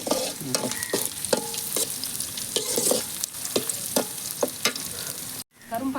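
Dried prawns frying in a pan with curry leaves, a steady close sizzle broken by repeated scraping and clattering stirs, with a brief cut near the end and no talk.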